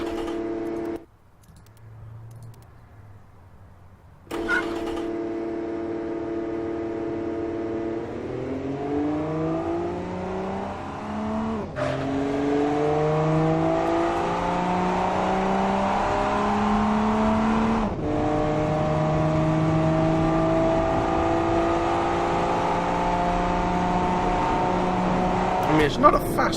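A car from the game Automation laps its test track: a steady engine drone whose rising, falling harmonics track acceleration and gear changes. Short gaps at shifts and a brief quiet opening precede the continuous run, with some talk over it.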